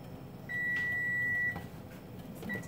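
Two electronic beeps from a kitchen timer during home cooking of cheeseburger helper, one long steady tone lasting about a second and a shorter one after, heard over low room noise with no talk.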